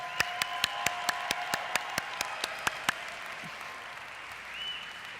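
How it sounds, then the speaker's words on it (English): An audience applauds a guest at an essential oil talk, with a crowd's soft clapping underneath a dozen sharp, evenly spaced claps from one close pair of hands before the rhythm fades into the general patter. "So let's give him a strong applause."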